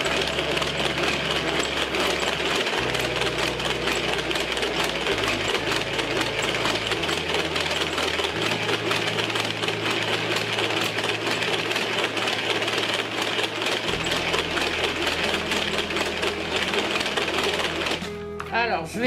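An electric blender with a whisk attachment fitted to a 1.25-litre jug whips egg yolks to a creamy texture, a steady loud motor whir running throughout with shifting low pitch and a brief stop near the end.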